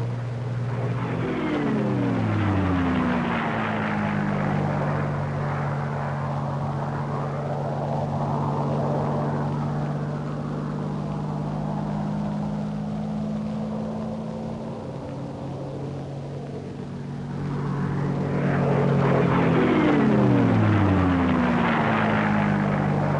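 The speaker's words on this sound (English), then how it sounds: "How about some aerobatics? Roger. Here's a loop." Propeller engine of a P-51 Mustang flying a loop, a loud continuous drone whose pitch sweeps down and then climbs again as the plane comes around, with no talk.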